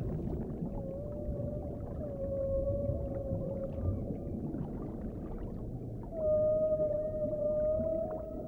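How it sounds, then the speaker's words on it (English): Humpback whale song underwater: long, sustained tonal moans over a steady low rumbling ocean background, moderately faint, with a stronger phrase near the end. "All the whales in each ocean sing the same song."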